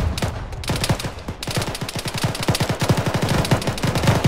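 Gunshots in the ArmA military sim: after a couple of separate reports, a long run of fast, evenly spaced automatic fire hammers away loud and close, with no voices.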